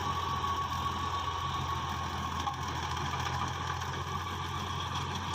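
A 1991 Fiat 480 tractor idles steadily at a moderate level. The low, even engine rumble carries a faint mechanical rattle, with no talking.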